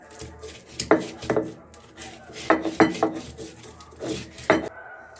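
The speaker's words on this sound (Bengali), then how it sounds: "আমি পেঁয়াজ মরিচগুলোকে আমি ঢলে নিচ্ছি" Onions and chilies are crushed on a shil-pata grinding stone, making clustered knocking and gritty scraping strokes up close in uneven bursts, with quiet gaps between them.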